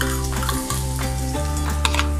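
Garlic, two to three spoonfuls, fries in hot oil in a pan for restaurant-style crispy corn, giving a steady, loud sizzle with brief stirring scrapes and no talking.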